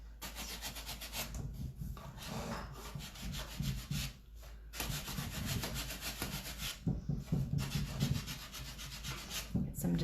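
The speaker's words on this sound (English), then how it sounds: "Some distressing on the edges, always." Hand sanding rubs the paint off the edges of wooden furniture to distress it: repeated rough, scratchy back-and-forth strokes, fairly faint and close, with brief pauses between bursts.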